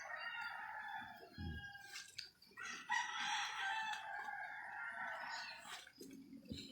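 A rooster crows by a roadside in the morning, its long call ringing out clearly over steady background noise, with a few shorter crowing bursts around it.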